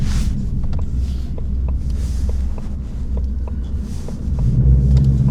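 Steady low engine rumble of a Ford Mustang cruising on an easy drive, heard from inside the car with road and wind noise and a slight swell near the end.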